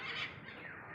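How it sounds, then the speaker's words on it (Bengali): A bird calls at an aviary in Bangladesh National Zoo, Mirpur, Dhaka, where macaws and cockatoos are kept: one harsh, squawking cry, fairly faint and close, running through under a second without any talk. "আর বাম পাশে কোন পাখি ডাকতেছে আমরা একটু দেখতে চাই।"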